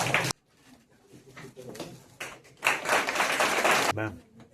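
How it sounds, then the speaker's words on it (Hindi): An audience at a certificate distribution ceremony at Jabalpur Airport claps in uneven bursts, the applause swelling loudly in the middle and trailing off, with people talking over and between the clapping. "तालियों में कमी नहीं होनी चाहिए"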